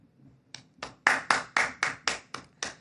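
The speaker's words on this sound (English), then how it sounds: "Adam, can you clap as well so it doesn't sound like just me?" Podcast hosts clap their hands, about nine sharp close claps with gaps at first and then a steady rhythm, and some faint low talk before they begin.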